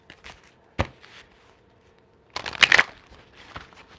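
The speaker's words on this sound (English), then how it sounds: "And one more shuffle, and then we're gonna go into another deck." Deck of tarot cards being shuffled close by, a quick riffle burst after a single sharp snap earlier, followed by a few light taps and handling sounds, no talking.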